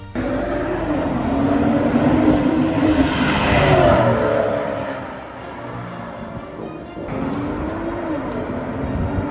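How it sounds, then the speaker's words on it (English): A tuned BMW M340i B58 engine with upgraded intake and downpipe drones steadily nearby, rising to a whooshing turbo spool in the middle, dipping briefly, then building again. "The RK Tunes intake gives you an amazing turbo noise."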